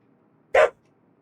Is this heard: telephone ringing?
no